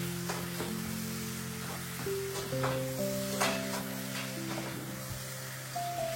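Chicken, 400 grams, goes into a pan of hot masala for a Sri Lankan chicken curry, giving a steady close sizzle with scraping stirs and faint clinks, no talking.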